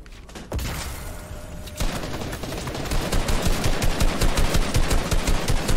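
Gunfire in the battle royale game Fortnite, rapid automatic bursts that grow denser and louder into steady rhythmic firing, with heavy thumps, near and loud with no talking.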